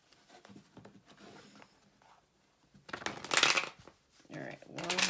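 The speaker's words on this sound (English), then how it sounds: "one more shuffle here" A deck of cards being shuffled by hand, soft riffling and sliding in short bursts, louder flurries in the second half, with some quiet speech in between.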